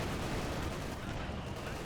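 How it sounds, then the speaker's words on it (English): Mortar rounds hit across a battle line in Company of Heroes 2, a short, dense burst of impacts and gunfire crackle packed tightly together. "Good mortar hits all across the line there, suppressing and pinning everything."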